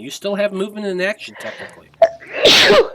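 A person sneezes once, sharply and loudly, at close range just after someone speaks a short sentence at a tabletop role-playing game session.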